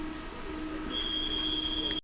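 An old tram in Ostrava rolls by on its rails, a steady low drone with a high, thin metallic squeal setting in partway through and holding until an abrupt cutoff.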